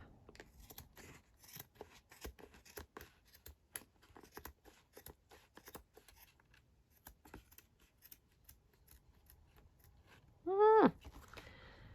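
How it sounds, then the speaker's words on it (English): Scissors snip through craft material in a run of soft, quick cuts with light rustling in between, ending in one brief, louder sweeping squeak. "And just snip that off across the top."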